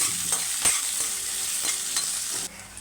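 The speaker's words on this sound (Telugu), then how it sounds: "ఒక మీడియం సైజు ఉల్లిపాయ అయితే చిన్న చిన్న ముక్కలుగా అయితే కట్ చేశానండి ఉల్లిపాయ ముక్క ఉల్లిపాయ కూడా లైట్గా వేగాలి" Finely chopped medium onion frying lightly in a pan for beaten rice upma, a soft steady sizzle with occasional scrapes of stirring, close and moderately quiet, no talk.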